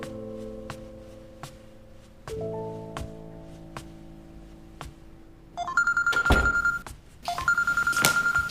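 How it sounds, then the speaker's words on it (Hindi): A telephone ringing with an incoming call in a Hindi-dubbed drama, beginning as a soft repeating ringtone melody and then swelling into louder, insistent bursts of ringing toward the end, with no talk over it. "तुम्हारी कॉल आ रही है, उठा क्यों नहीं रहे?"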